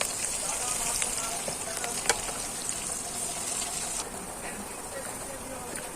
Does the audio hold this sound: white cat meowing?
no